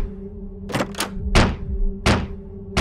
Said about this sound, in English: someone began violently banging and kicking against the door, desperately trying to force their way in